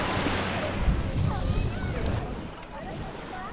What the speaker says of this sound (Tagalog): mas malaki ang alon dito